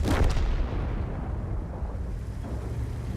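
A T110E4 tank cannon fires in World of Tanks: one heavy, booming shot at the start, then a long rumbling decay that fills the rest of the moment.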